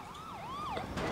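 An ambulance siren in the video game GTA IV wails in rising and falling sweeps, close and steady over low traffic rumble.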